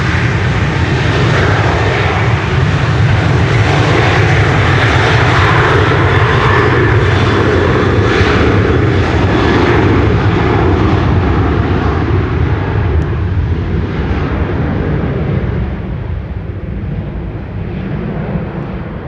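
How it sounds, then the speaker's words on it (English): A KLM airplane in SkyTeam livery at Amsterdam Schiphol Airport during Storm Amy gives a loud, sustained jet-engine roar close by, easing slightly toward the end, with no talk. "And this is KLM in the SkyTeam livery."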